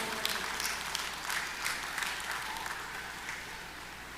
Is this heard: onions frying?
no